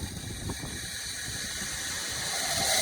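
A drip irrigation system in Nebraska flushing water, a hissing gush of pressurized water with a low mechanical pump rumble, growing slightly louder toward the end, with no talk.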